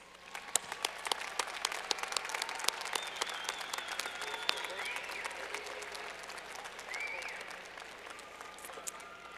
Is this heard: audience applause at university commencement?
yes